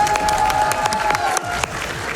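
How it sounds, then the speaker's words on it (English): A crowd at a Games Done Quick speedrun event cheers and applauds, dense clapping and shouts filling the whole short stretch, loud and close. "Can we get a fighting from the crowd?"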